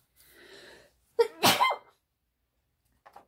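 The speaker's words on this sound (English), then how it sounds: "I think I'm going to sneeze." A single close, loud human sneeze, with a short breathy intake leading into the sharp burst, followed by quiet and a faint small sound afterward.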